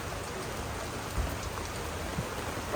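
Steady rain falls in Thailand, a constant even hiss of drops on surfaces that runs unbroken with a few faint low thumps and no voices.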